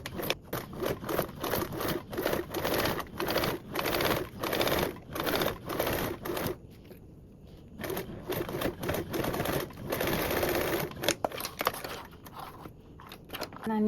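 Close, busy sewing machine top stitching with rapid rhythmic clatter that runs almost continuously and pauses briefly partway through, with no speech over it.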